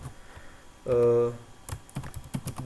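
Python code is typed on a computer keyboard, with scattered close key clicks and taps and a short voiced sound partway through.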